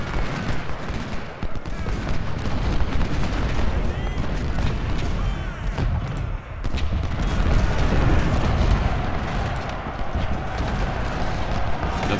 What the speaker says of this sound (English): Taylor, fire away.